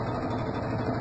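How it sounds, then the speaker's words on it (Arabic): An LG washing machine's motor hums steadily in a brief, continuous mechanical whir as it spins, close and moderately loud with no talk. "فغالب الأحيان يصعد المحرك لوحده"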